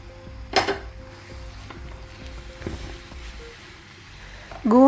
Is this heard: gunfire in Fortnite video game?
no